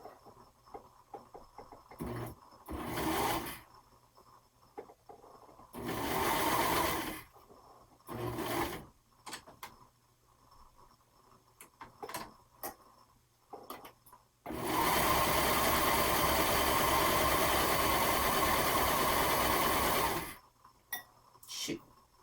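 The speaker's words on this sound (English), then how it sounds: "So we're just going to serge this, or finish your edge however you've been finishing your seams so far." A serger finishes the raw seam edges of a summer romper, starting with several short stitching bursts and ending in one long, steady run. The machine is close and clear.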